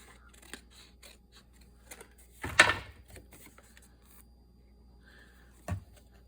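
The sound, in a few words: scissors trimming paper for a craft project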